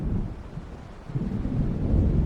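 Low thunder rumbles in the Alan Wake game as a storm approaches, building from a soft roll to a heavier, swelling boom by the end, with no voices.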